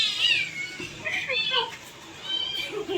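A cat meows repeatedly at close range in a home while a woman plays with it, the mews rising and falling in short bursts with light household voices around.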